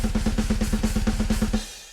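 Programmed metal drums pound out a fast, even run of kick and snare strokes topped with China cymbal hits, loud and steady for nearly two seconds before cutting off.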